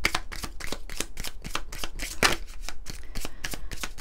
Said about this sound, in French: Allez, on va prendre une carte de l'oracle du pouvoir personnel pour voir pour le masculin sacré